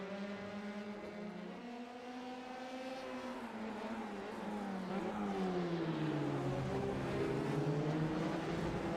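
F3 race cars in the iRacing simulation scream through a chicane, engine pitch dropping on braking then climbing again as they accelerate, several cars overlapping at moderate volume.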